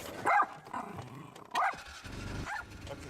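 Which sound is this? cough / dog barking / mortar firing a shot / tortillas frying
dog barking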